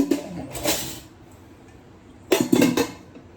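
Steel pots and pans clatter and clink in a home kitchen sink during washing, with two short bursts of metallic knocking separated by a quiet stretch, close and fairly clear.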